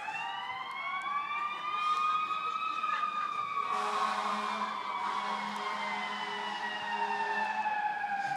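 A siren sound effect plays through a loudspeaker at an indoor event, its wailing tone sweeping slowly up and down continuously, moderately loud over faint room noise.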